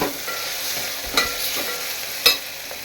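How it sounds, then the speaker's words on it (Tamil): Slit green chillies sauté in a hot pan, giving a steady close sizzle with two sharper stir-and-scrape accents partway through; no voices. "பச்சை மிளகா மூணு மிளகா கீறி வச்சுருக்கோம் போட்டுக்குவோம் போட்டு நல்லா வதக்கி விட்டுக்கலாம்"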